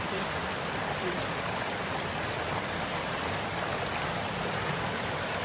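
River water in rural Jamaica flows in a steady, dense rush of broadband noise that stays even and close throughout, with no voices.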